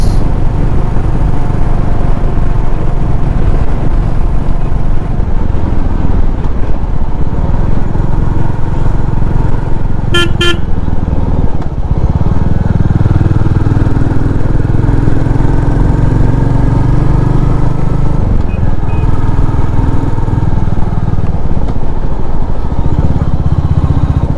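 A Royal Enfield Meteor 350 cruiser motorcycle engine drones loudly and continuously while riding, a steady close rumble with wind rush and no pauses.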